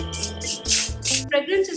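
Wipe-free disinfectant spray pumped onto a product or surface from about two hands' distance, giving several short hissing bursts in a steady rhythm, close and fairly loud, over a low background tone.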